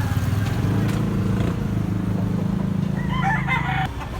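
A rooster crows loudly and close by among other chickens in a yard in Consolacion, Cebu, one long sustained call followed by clucking and fowl noises at the end.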